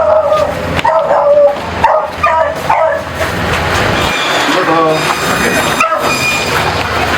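A dog at a house surrounded by overgrown bushes and plants barks sharply several times in quick succession, loud and close, over a continuous rumbling background noise that carries on after the barks stop.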